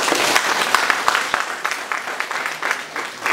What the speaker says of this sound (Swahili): Kwa hakika mpigie makofi sana mheshimiwa.